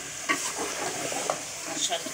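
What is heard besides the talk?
potatoes being fried and stirred in chicken gravy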